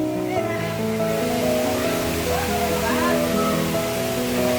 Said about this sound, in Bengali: আমরা ছোট এই ঝর্ণার কাছে চলে আসলাম